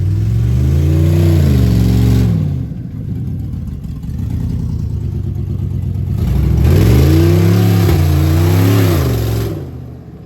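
A Lincoln Navigator's engine revs hard in two long surges separated by a lower idle, rocking back and forth to drag a stuck work truck out of a hole, loud and close with no talking.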